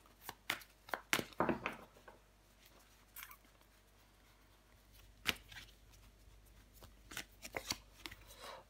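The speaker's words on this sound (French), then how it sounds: "Je vais recouvrir des cartes pour vous les Sagittaires." Tarot cards are laid out and covered one by one in a quiet room, producing scattered soft slaps, flicks and rustles of card stock in irregular bursts. The sound is close but faint and comes without speech.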